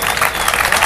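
Steady applause from a beach volleyball crowd in Basel after a qualifying match, dense and continuous clapping that fills the whole moment with a light wash of crowd noise beneath it.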